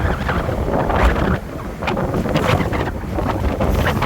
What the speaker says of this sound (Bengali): কি বাতাস এই জায়গায়।